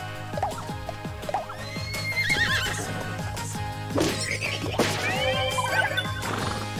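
A horse in the video game Miitopia neighs and whinnies repeatedly, with clip-clop hoofbeats and bright game music underneath. The calls are fairly loud and close, with no talking.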